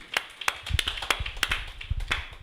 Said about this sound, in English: A round of applause to CEO.